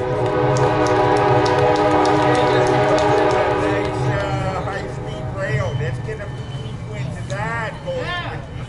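A train rolls past at a grade crossing, its horn sounding in long loud blasts for the first several seconds, then steady rumble and wheel squeals continuing up close with people talking over it.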